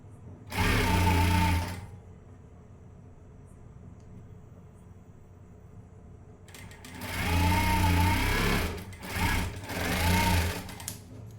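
A sewing machine stitches blouse fabric in loud close bursts, one run of about a second, a quiet pause, then a longer run broken by short stops and restarts.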